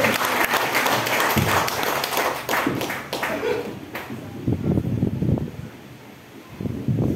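A church congregation at a spiritual reunion bursts into loud, dense applause that fades after a few seconds, then scattered claps and noise return near the end.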